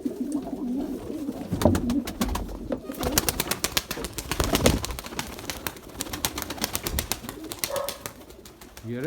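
A pigeon coos repeatedly nearby in low, throaty phrases, with rustling and shuffling noises around it and no talking.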